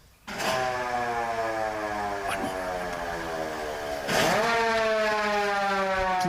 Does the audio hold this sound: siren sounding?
yes